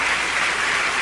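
A church congregation applauds after a sermon, a brief dense burst of many hands clapping at a steady level.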